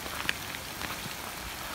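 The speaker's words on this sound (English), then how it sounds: "It's hailing so hard that it's snowing." Hail falls hard outdoors at a mountain home, a dense, steady patter of pellets striking surfaces with a few sharper close hits, no voices.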